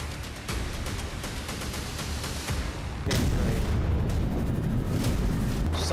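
A massive blast over Tartus, Syria, rolls out as a continuous deep roaring rumble, growing heavier and louder partway through with low booming surges and no voices.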